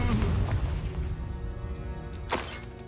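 A Confringo explosion spell in a wizarding video game bursts with a deep booming blast that rumbles and fades, followed by a sharp crackling burst about two seconds later.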